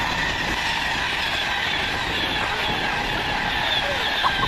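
A Voyager train passes at a station, a steady rumble with clickety-clack wheel rhythm and faint squealing throughout, moderately close and without voices.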